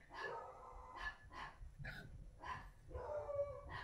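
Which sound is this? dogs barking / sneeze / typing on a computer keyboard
dogs barking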